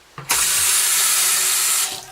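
A bathroom faucet in a worn property runs steadily, a loud continuous rush of water that starts abruptly and fades slightly near the end, with no one talking.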